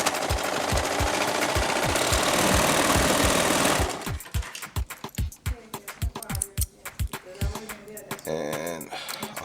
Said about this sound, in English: So you run it through a serger. As you can see in the serger, there's a needle that actually cuts and then sews over it.